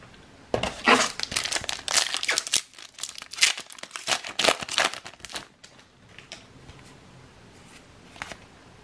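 Foil trading card pack for Magic: The Gathering Innistrad Midnight Hunt crinkling and tearing close up, a burst of sharp crackles then softer intermittent rustles that fade to occasional crinkles.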